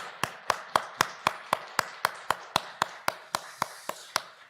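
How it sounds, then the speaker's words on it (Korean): A church congregation at a Sunday afternoon baptism service claps together in a crisp, evenly spaced rhythm, about four claps a second, close and steady. "다시 한번 뜨거운 격려의 박수하고 들어가겠습니다"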